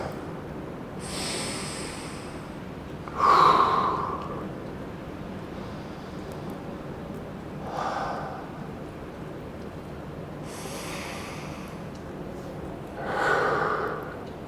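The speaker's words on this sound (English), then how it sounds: "Work with some breathing." Slow, audible breaths from a person holding a chest and shoulder stretch during a dumbbell workout, a few separate exhales and sniffs spaced several seconds apart over quiet room noise.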